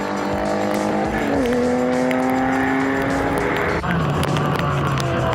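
Historic race cars lapping a wet Phakisa circuit during a race, engines held at a loud, sustained drone near the listener, with a sharp gear change or lift partway through before the revs settle lower.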